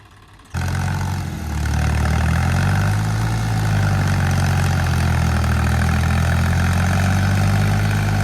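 A heavy tractor engine roars to life after a moment of quiet, then runs loud and steady with a deep rumbling throb throughout, while tractors pull out another tractor stuck deep in mud.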